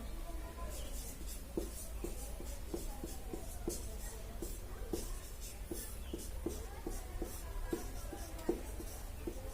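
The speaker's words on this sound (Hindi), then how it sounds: "सब लोग एक एक लाइन में लिखेंगे लैंगिक जनन में होने वाली" Students in a Class 12 lesson write in notebooks, a run of soft, close scratching pen strokes in an irregular rhythm over a low steady hum, with a few faint rustles.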